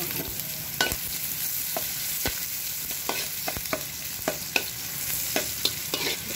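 Onion sautés in a pan for batsoy, a continuous sizzle broken by sharp spatula scrapes and clinks against the metal at an irregular rhythm, close and fairly loud with no voices.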